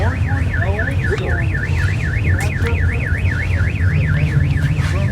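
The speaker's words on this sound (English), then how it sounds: "then your car alarm went off" A car alarm wails with a steady looping siren at a hi-performance swap meet and car show, loud and continuous over crowd and engine rumble throughout.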